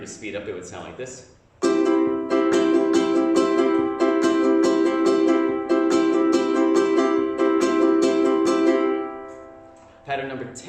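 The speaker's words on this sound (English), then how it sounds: "And if you were to speed up, it would sound like this." A ukulele is strummed in a fast, steady pattern of rapid, even down-and-up strokes for about eight seconds, with a person talking briefly before and after.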